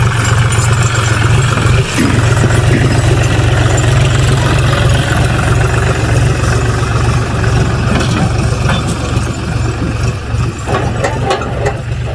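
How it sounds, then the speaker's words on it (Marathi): Tractor engine running steadily on a sugarcane farm near a river, a loud, close, continuous low rumble with no break throughout. "आता ट्रॅक्टर लावाले बघा जाग्यावर त्याच्यात"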